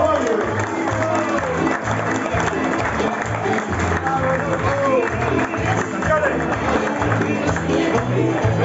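A crowd applauds a boat at a children's fishing tournament, with steady clapping and murmuring throughout and a voice talking over it.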